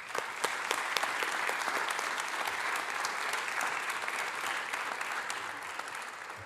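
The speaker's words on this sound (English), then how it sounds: "A round of applause to all." Steady applause from an audience at a business awards ceremony, a dense even wash of many hands clapping that carries on for several seconds with no voices over it.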